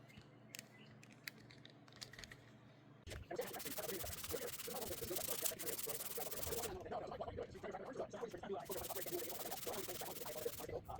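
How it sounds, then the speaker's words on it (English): Spot putty on the body of a 1988 Yugo GVX is sanded by hand after a few quiet taps and handling noises, then a steady, close rasping scrub runs continuously with brief pauses. "It's set up enough for me to start sanding on it now."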